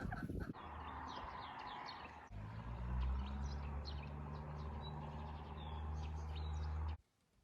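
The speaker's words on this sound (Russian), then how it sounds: "Сидит моя курочка, квочка, и уже, смотрите, вставала." A broody hen sitting on her nest clucks softly and steadily at close range over a constant rushing background noise, with short chirpy calls scattered throughout.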